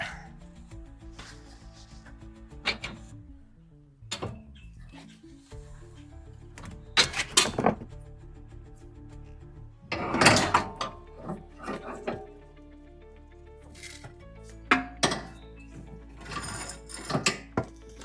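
Front sway bar being unbolted and lowered out from under a 2005-2014 Ford Mustang, heard as scattered close metallic clicks, ratcheting and clunks with quiet gaps between them.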